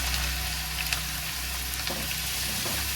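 Onions, about 350 grams, frying in a pan as the base for spiced chicken mince, giving a continuous close crackling sizzle with no voices over it.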